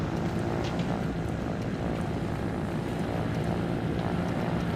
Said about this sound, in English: I've made a helicopter.